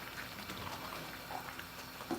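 Blended cassava leaves cooking in coconut oil with water bubble steadily in a pot, a soft continuous simmering burble with occasional louder pops, faint and close, with no talking.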